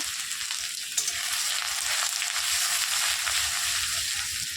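Ginger dropped into hot oil with five-spice seeds, a loud continuous sizzle and crackle with a sharp burst as it hits the pan, no talking.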